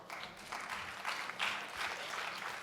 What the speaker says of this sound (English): Little applause for the lost cause